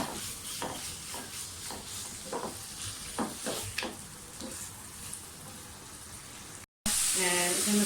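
Chicken pieces sizzle and fry in a pan for spaghetti, a soft steady crackle with repeated sharp stirring clinks and scrapes, moderately close, followed after a brief cut by a louder, denser sizzle.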